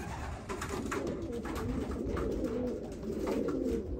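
White grizzle racing pigeons coo in a loft in a dense, continuous layered murmur, close and steady, with overlapping throaty calls and no speech.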